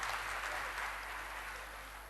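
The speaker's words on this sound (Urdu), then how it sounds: "میرے خیال ہے تالیاں ہونی چاہیے" Steady audience applause at a college diamond jubilee mushaira, a dense wash of clapping from a large seated crowd that continues evenly throughout without pause.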